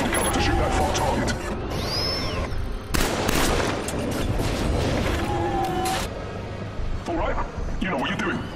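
Gunfire from cover in Killzone 3, loud bursts of rapid shots and booms trading back and forth among explosions and battlefield noise, with voices talking over parts of the fighting.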